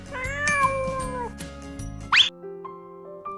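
A cat gives a drawn-out meow up close, then a short sharp mew, set against a low background of soft music.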